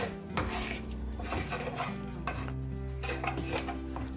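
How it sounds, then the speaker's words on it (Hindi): A spoon scrapes and clinks steadily against a pan while pasta sauce with milk is stirred, a busy rhythmic scraping close up over a low kitchen hum, with no talking. "इसे भी अच्छे से मिक्स कर लेंगे हम।"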